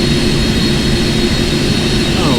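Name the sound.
jet engines of airliners in X-Plane 11 flight simulator video game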